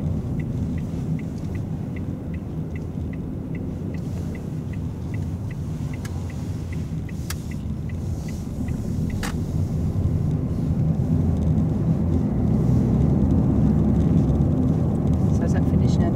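A Smart car driving on a road, heard from inside the cabin as a steady low rumble of engine and tyre noise that grows slightly louder toward the end, with faint ticking of an indicator early on.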